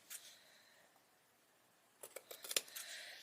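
Scissors trimming fabric on a homemade couch, a quick run of close, crisp snips clustered near the end after a faint cut or two at the start, with no talk.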